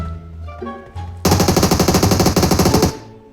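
Automatic weapon fire in PUBG Mobile: a loud, sustained burst of rapid, evenly spaced shots lasting about two seconds, with some quieter game sounds beforehand.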